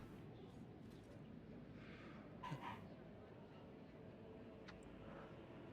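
A house dog gives one short, faint bark amid low room hiss during a live gaming stream, with a voice talking quietly around it.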